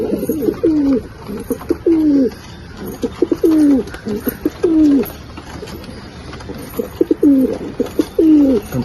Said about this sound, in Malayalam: ഒരു നാഗറോഡ് പ്രാവാണ്.